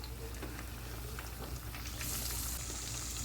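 Cornstarch-coated chicken fries in a pan, a dense, even crackling sizzle throughout, growing slightly brighter and louder near the end.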